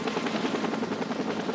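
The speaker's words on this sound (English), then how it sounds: "the medical chopper arrived to transport her to the hospital" A medical care flight helicopter approaches for a rescue, its rotor thumping steadily in a dense, continuous chop that fills the short stretch at moderate loudness.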